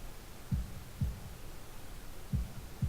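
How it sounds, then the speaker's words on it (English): A heartbeat in the Katawa Shoujo video game, a soft, low lub-dub thumping repeated four times at an uneven pace over a faint steady hum. "holding my breath in an attempt to hear my heartbeat."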